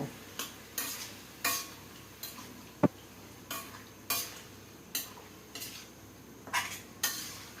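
Small mixed fish being stir-fried in spice paste: a spatula scrapes through the pan in a steady series of about a dozen rhythmic strokes over a low sizzle, with one sharp clink partway through and no talking.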